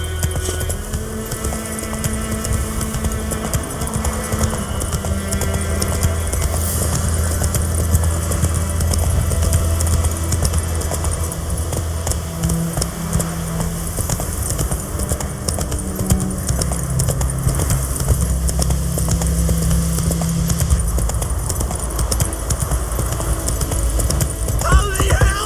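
A horse gallops in The Witcher 3: Wild Hunt video game, a steady rhythmic clip-clop of hooves running continuously under a dense layer of game ambience and music, with voices present at times.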